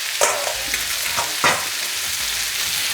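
Rinsed canned ackee tumbles into a pan of frying saltfish (cod), setting off a wet sizzle with a few soft plops and stirring scrapes; no talk.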